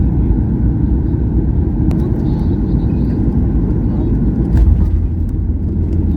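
Steady, loud low roar of a passenger jet's engines heard from inside the cabin as the airliner descends to land, a continuous broadband rumble with a slight swell near the end.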